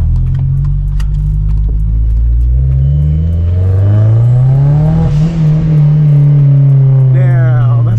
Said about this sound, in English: We are in my buddy Prentice's Mazda Speed 6, Stage 4. Let's go for a spin.